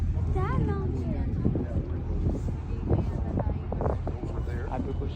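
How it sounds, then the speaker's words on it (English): Wind buffeting a boat out on the water at Waterton, Canada, a constant loud rumble of wind against the microphone beneath people talking. "The wind's still there."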